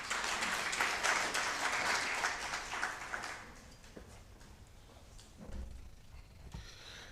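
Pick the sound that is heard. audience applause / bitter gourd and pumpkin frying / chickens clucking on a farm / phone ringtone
audience applause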